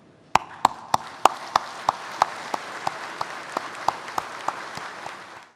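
Slow, evenly spaced claps ring out in a hall at a presidential Broadcasting Day ceremony, about a dozen and a half distinct strikes that gradually soften toward the end, with no voices.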